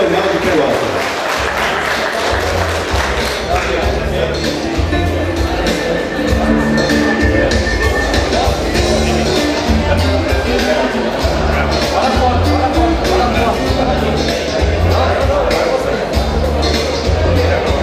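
An audience at the 45th anniversary celebration of the Associação Colonial de Pelotas applauds the arbitration directors, with sustained dense clapping and crowd murmur that fills the hall for well over fifteen seconds while a voice speaks over it.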